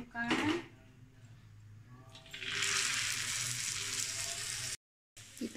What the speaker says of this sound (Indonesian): Kita gorengkan